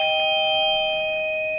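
A doorbell chimes for a delivery, sounding as a single clear electronic ring with two steady bright tones that hold and slowly fade, loud and alone.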